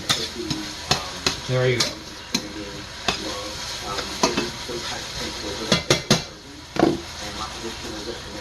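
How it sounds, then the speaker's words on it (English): Onions and garlic sauté in oil in a pan for chicken hunter, a sizzling hiss broken by repeated clattering tosses and utensil knocks against the pan, with someone briefly speaking. "To saute is to jump, to saute is to keep everything jumping in the pan"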